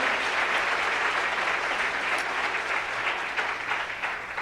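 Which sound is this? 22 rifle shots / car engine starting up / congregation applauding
congregation applauding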